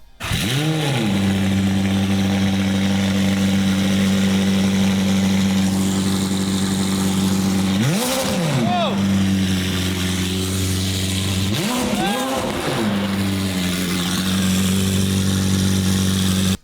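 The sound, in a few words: McLaren 720S sports car exhaust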